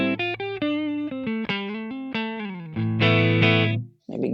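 A short melodic run of single notes and chords from an electric guitar played through a Vox AC30 amp model on a Lekato TANK-G modeler with the volume raised, slightly driven, close and louder, ending in a brief strummed burst.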